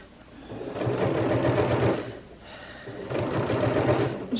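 Sewing machine stitching seams straight over pins in slippery fabric, two close, steady runs of rapid mechanical whirring separated by a brief pause.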